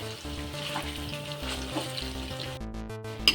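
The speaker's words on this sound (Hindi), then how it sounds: "अभी हमारी दाल फ्राई हो रही है। इसको 10 मिनट तक हम फ्राई करेंगे" Lentils (dal) fry in a pan, a continuous close sizzle and crackle with occasional stirring, set against background music, with no talking.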